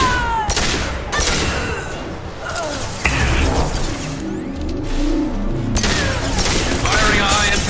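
Gunfire in the video game Mass Effect 2, loud bursts of shots and impacts in a combat firefight, coming in clusters with short gaps amid booming effects and game noise.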